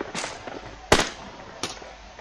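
Sharp gunshots in the video game PUBG, three separate cracks spaced apart with the middle one loudest and closest, over a quiet background with faint game noise.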